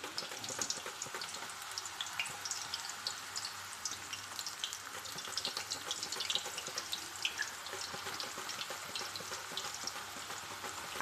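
Raw banana slices frying in hot oil for homemade crispy wafers give a steady, dense bubbling hiss with scattered crackles, continuous and close, with no talking.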